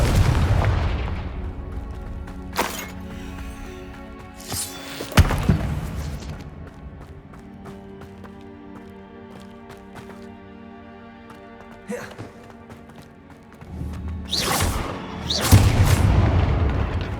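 Repeated Confringo spell blasts in Hogwarts Legacy, heavy booming impacts landing at irregular intervals amid game music and ambience, with clusters of loud explosions near the start, middle and end.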